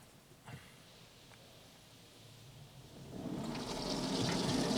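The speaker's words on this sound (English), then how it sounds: "A lot of rinsing going on here." PDQ Laserwash 360Plus automatic car wash rinsing a car at a Mobil station, a soft hiss of spray that swells into a louder rushing wash of water over the last seconds, heard alone.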